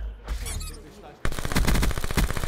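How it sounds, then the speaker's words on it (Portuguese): Rapid gunfire from the video game Black Ops 4 breaks out suddenly midway, loud and dense bursts following a quieter stretch where a voice talks. "é que eu escutei tiro"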